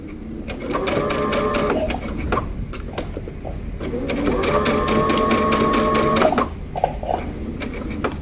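A sewing machine stitches a tee shirt seam in two long steady runs separated by a short pause, loud and close with a fast even mechanical rattle.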